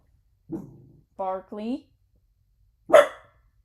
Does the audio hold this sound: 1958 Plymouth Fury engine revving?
no